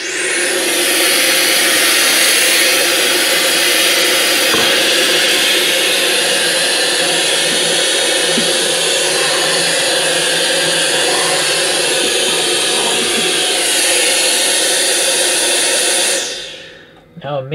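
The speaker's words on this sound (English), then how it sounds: "So let's just show it vacuuming some rice." A KiCA Jet Fan 2 handheld vacuum sucks up rice with a loud, steady high-pitched whine that runs unbroken for about sixteen seconds before spinning down and cutting off.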